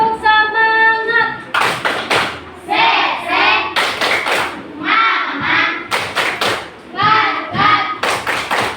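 Children and their teacher in an Indonesian primary classroom clap a rhythmic ice-breaking cheer, with loud bursts of patterned hand claps alternating with chanted voices in a repeating call-and-clap sequence.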